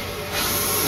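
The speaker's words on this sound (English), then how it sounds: "We're going to be catching this steam train, which is actually a regular service." Steam locomotive standing at Poznań Central station in Poland on a regular passenger service, giving off a steady, loud broadband hiss of escaping steam that swells and continues for the whole second, with no talking.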